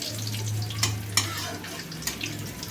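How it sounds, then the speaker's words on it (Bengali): Vegetables stir-fried with garlic in a pan: a soft, steady sizzle with a low hum beneath, broken by a few sharp spatula scrapes and knocks against the pan. "ভালো করে নেড়ে চেড়ে ভেজে নিচ্ছি"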